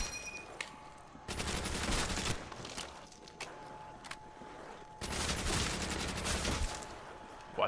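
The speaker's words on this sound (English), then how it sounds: "A Garand with a launcher" M1 Garand fire in Call of Duty Zombies on Nacht der Untoten, two loud sustained bursts of rapid gunfire separated by quieter gaps with a few single shots.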